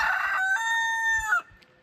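A rooster crows once nearby, a loud drawn-out cock-a-doodle-doo that cuts off into quiet.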